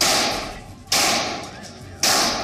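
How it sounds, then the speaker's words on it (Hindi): Two sharp, loud gunshots fired into the air at a traditional gathering in Ghaziabad, each a sudden broadband crack that decays over about a second, spaced roughly a second apart. "आखिर ये लोग इस तरह हवा में फायरिंग क्यों कर रहे हैं?"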